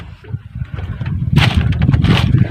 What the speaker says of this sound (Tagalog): At papanda rin ko na po yung aking makina.